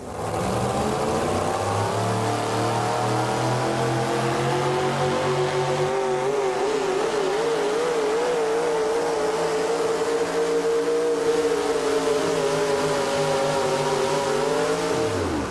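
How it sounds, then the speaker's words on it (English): The Torco Spellbound pulling truck revs hard at a tractor and truck pull in Hillsboro, Wisconsin, a loud, continuous engine roar whose pitch climbs, wavers and holds for about fifteen seconds before dropping off. "a beautiful truck called the Torco Spellbound"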